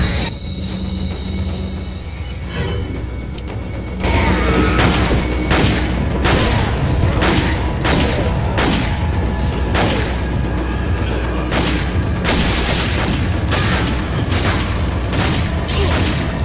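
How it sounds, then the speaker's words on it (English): A flash grenade goes off in Resident Evil 4 as a loud broadband boom that jumps the level and holds as a dense, noisy wash with mechanical thuds and clatter for the rest of the stretch, no speech over it. "What we're going to do is actually throw a flash grenade."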